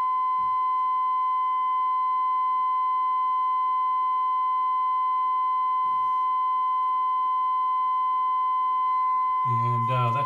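Steady pure sine-wave tone played through a Hallicrafters S-40B shortwave receiver, a constant high whistle with faint background hash, ending in a brief louder burst of noise.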